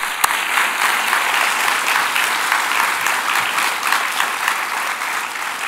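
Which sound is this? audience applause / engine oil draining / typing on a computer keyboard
audience applause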